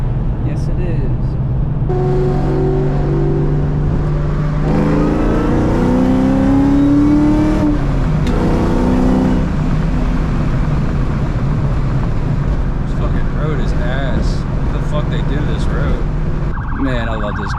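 Ford Mustang Cobra Terminator with straight-piped exhaust accelerating hard from inside the car, a loud continuous engine roar with rising and falling revs and gear shifts, people talking over it.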